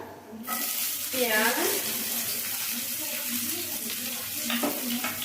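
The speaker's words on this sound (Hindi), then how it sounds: "पहले हम इसमें डालेंगे तेजपत्ता" Bay leaves dropped into hot mustard oil in a kadhai on a gas stove, giving a sudden, steady, loud sizzle that holds throughout, with faint background voices under the frying.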